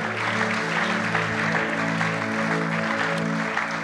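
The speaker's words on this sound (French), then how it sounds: "Acclame très fort pour le Seigneur" A church congregation at a prayer service claps vigorously for the Lord, a dense sustained wash of applause mixed with a steady musical backing, loud and continuous throughout.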